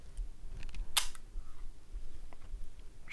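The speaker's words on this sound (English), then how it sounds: "The shutter cocking is a little sticky, but all the speeds seem pretty on point" Argus C3 rangefinder camera shutter firing once, a sharp, close mechanical click near the one-second mark against a quiet room background.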